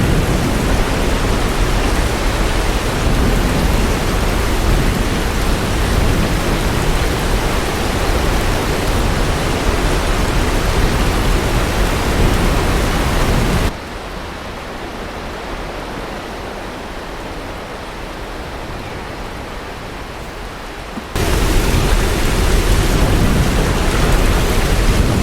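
Heavy hurricane rain from Hurricane Milton in Florida roars as a dense, continuous wash of noise, dipping for a few seconds before returning at full force, with no voices.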